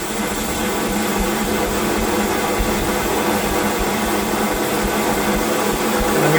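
AliExpress liquid fuel camping stove burning with the fuel opened up slightly, a steady broadband roaring hiss, even and continuous, close by with no talk.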